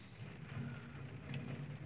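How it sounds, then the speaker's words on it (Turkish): Rain falls steadily around a Honda Prelude parked outdoors during sunroof drain tube repair, a soft, even wash of drops with a low rumble underneath and no one speaking. "Yine çalışmamız yağmura maruz kaldı ve bölündü."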